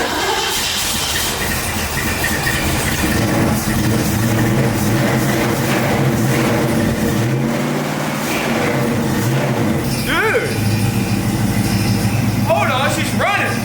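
A revived Ford Mustang engine runs continuously nearby after just firing up, a steady rough idle with rumbling low tones and a few slight revs, with voices talking over it.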